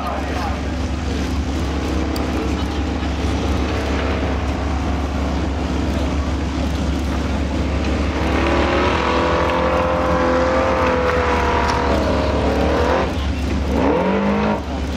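A Formula Offroad race car climbing a steep hill at a Finnish event, its engine revving hard and rising in pitch, loud and sustained throughout, with a commentator talking over it.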